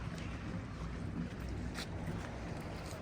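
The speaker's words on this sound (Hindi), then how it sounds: "ये बोट अब गालबन खुले समुंदर में जा रही है।" A boat heading out of North Berwick harbour toward open sea, a steady low engine rumble mixed with wind and water noise, constant and moderately quiet, without talking.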